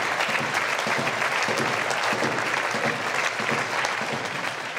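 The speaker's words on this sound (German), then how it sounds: "Applaus" Audience applause for a team physiotherapist at an end-of-season farewell and thank-you event, a dense, steady roar of many hands clapping that holds loud and even from start to finish.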